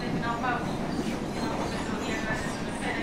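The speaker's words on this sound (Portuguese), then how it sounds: "Agora vou pegar o trem." A commuter train in Rio de Janeiro rumbles at a station, with steady rolling wheel noise, faint metallic squeals and clatter throughout.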